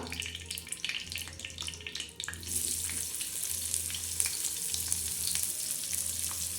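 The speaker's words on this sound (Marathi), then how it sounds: "असा कांदा मस्त भाजून घ्यायचा" Onion frying on a washed iron tava (griddle) in oil, a bright steady sizzle that rises sharply after a softer start with clinks and stirring taps, close and continuous with no talking.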